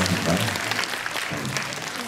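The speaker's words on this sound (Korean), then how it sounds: "박수 한번 하시죠." Audience applause at a Busan MBC Dream Hall concert, a short steady burst of clapping from the crowd with some voices mixed in.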